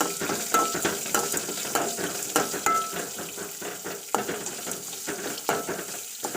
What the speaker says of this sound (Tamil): ஒரு சின்ன வெங்காயத்தை நல்லா பொடிசாக நறுக்கி வச்சுக்கிறேன் அதையும் போட்டு நல்லா வதக்கிக்கணும்